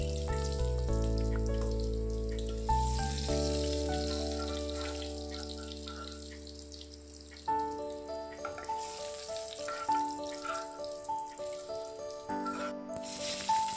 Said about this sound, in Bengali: এবার তেলের মধ্যে তেজপাতা আর জিরে ফোড়ন দিয়েছি